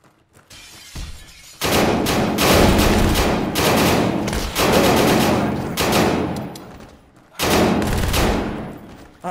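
Gunfire in a shooting video game: a short burst of shots, then long loud bursts of rapid automatic fire with sharp impacts, then a pause and another burst, close and dense.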